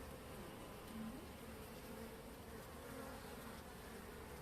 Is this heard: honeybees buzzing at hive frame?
yes